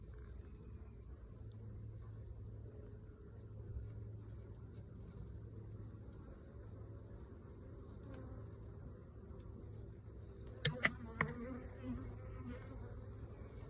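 Steady, droning buzz of many honeybees hovering close around an opened hive, continuous and busy, with a couple of brief clicks near the end.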